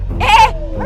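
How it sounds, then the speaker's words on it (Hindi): A dog gives a single sharp, close bark, loud and brief, standing out against a low background rumble. "भौंकना बंद कर"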